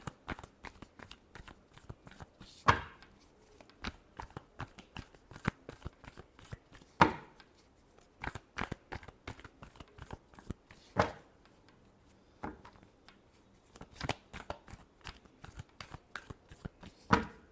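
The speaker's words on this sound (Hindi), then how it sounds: "last shuffle" Tarot cards are shuffled by hand in a dense, continuous patter of soft riffling slaps and flicks with sharper accents every few seconds, close-up and with no talking.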